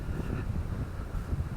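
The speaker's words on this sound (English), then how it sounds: "It's a very windy day today." Wind blowing outdoors beside a church on a gusty day, a steady low buffeting roar against the microphone, with no talk.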